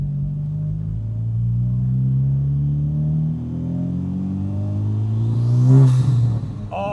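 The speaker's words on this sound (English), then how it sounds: "This Tomei titanium exhaust is absolutely ridiculous." A Honda Civic Type R fitted with a Tomei titanium exhaust revs hard, its low engine drone climbing in pitch over several seconds and peaking in a loud, rasping surge near the end, heard close up with no talking.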